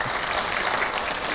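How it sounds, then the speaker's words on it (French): A film club audience claps together in a brief, dense burst of applause, steady and fairly loud throughout. "Applaudissez pour elle."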